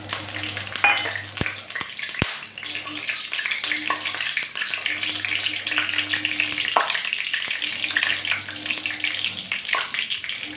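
Fennel seeds sizzle and crackle steadily in hot coconut oil for chicken kondattam, a continuous close frying hiss with occasional stirring clinks.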